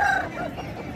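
Aseel rooster at a poultry market in Safan, a brief close cluck with a rising tonal call over busy market background noise.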